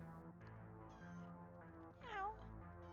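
A cat meows once, a short rising-then-falling cry, in the video game The Cat Lady, set over a low, sustained musical drone.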